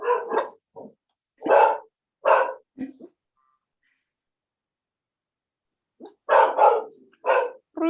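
A dog barks in sharp bursts, several quick barks, a pause of a few seconds, then another rapid run of barks, close and clear with no talk.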